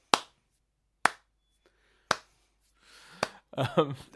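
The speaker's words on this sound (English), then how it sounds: "I'm just going to give you a quick slow clap, not a sarcastic one, a legitimate." A slow clap: three sharp, evenly spaced single hand claps about a second apart, close and alone, followed by a fourth clap as a voice starts talking.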